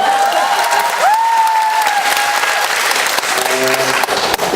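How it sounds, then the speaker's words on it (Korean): Audience applause at a political book concert held for a Korean National Assembly member: dense, steady clapping from a crowd fills the whole stretch, with a voice briefly rising above it partway through. "박수 막 쳐주고 그러시면 안 돼요."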